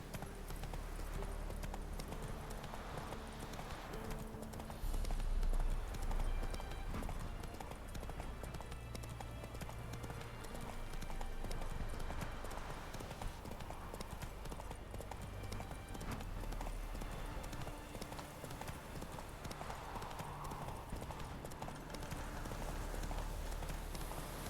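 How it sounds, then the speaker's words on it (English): Hooves of a horse named Roach clip-clop steadily in the Witcher 3 video game, a continuous close rhythmic trot over a soft ambient background. "Whoa there, Roach."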